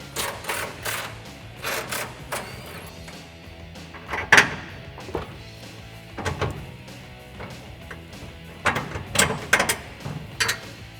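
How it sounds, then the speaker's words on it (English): An 18mm socket wrench spins nuts off a DV8 off-road rear bumper on a 2007-2013 Silverado 1500, giving bursts of close metallic clicking and clanking in uneven clusters with short pauses between. "Just grab an 18mm socket and get those off."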